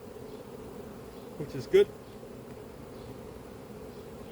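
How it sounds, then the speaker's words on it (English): A honey bee swarm buzzes at a hive as a low, continuous drone from many insects. A brief spoken remark and a short louder burst of buzzing rise over it. "So this is a swarm."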